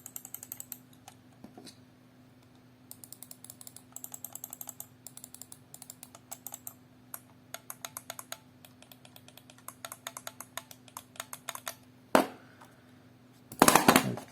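Two mice, a Microsoft wireless model and a Dell, are clicked in turn, close and crisp, with irregular runs of clicks and a couple of louder knocks near the end.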